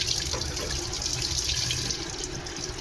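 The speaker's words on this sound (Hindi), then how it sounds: "और पानी आ रहा बहुत ठंडा ठंडा।" Water runs steadily from a household tap at a sink as the motor supplies cold water, a continuous broadband hiss and splash that stays fairly loud and unbroken with no speech.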